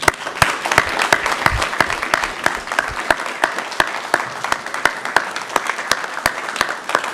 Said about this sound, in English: So if we could all give him a round of applause again.